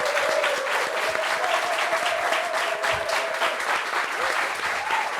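Studio audience on a French talk show applauding a guest, a thick, even burst of clapping that holds steady and fairly loud, with a faint sustained tone running beneath it.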